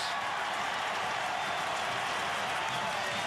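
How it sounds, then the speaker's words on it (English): Stadium crowd at Dolphin Stadium in Miami during a 2009 World Baseball Classic game, Venezuela versus Puerto Rico, cheering a strikeout with clackers banging, a dense, continuous roar of noise with a commentator talking over it. "Crowd was on their feet. The clackers were banging together. Everybody was yelling"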